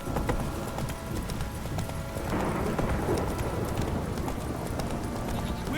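Roach, Geralt's horse in The Witcher 3, trots along with a steady rhythmic clip-clop of hooves under a dense game ambience, continuous and moderately close throughout.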